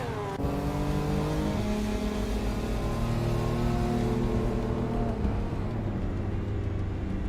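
A 1971 Mazda RX-3 vintage street car roars in a video game race on a reverse track, its engine revving steadily with rising and shifting pitch, loud and continuous with no talk.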